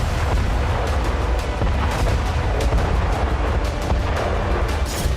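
A Ukrainian BM-21 Grad rocket launcher firing, a dense, continuous roar of rapid launches and booms with heavy low rumble, loud and sustained throughout.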